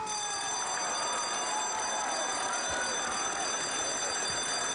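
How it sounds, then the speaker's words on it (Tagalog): A school bell rings continuously and steadily in a Manila barangay in Sampaloc, a bright sustained metallic tone that stays loud and constant throughout, without speech. "Oy, bell yun ah."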